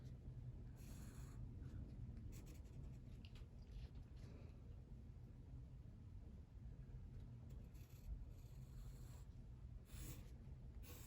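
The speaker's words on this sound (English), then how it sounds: "So maybe I might start off by just lightly with pencil, just writing out" Pencil lightly writing letters on paper, a soft scratchy scraping in short bursts and strokes over a low steady background rumble, quiet and close.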